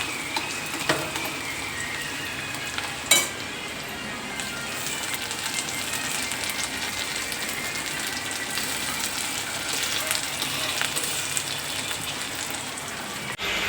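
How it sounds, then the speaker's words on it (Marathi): Chopped onion and tomato sizzle steadily in a hot pan for a spicy mushroom curry, a continuous close crackle broken by a brief clatter of stirring, with no talking. "कांदा टोमॅटो जरा फ्राय होऊ द्या"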